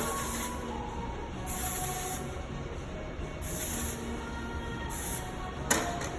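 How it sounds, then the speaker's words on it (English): Several short bursts of hairspray hiss in a quiet room, each lasting about a second, with brief pauses between them. "So if you just spray a little bit throughout"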